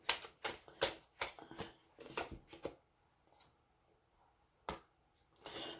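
Tarot cards are shuffled by hand in a quiet room, a series of crisp riffling bursts in quick succession, then a pause and a couple more soft shuffles, close and fairly faint.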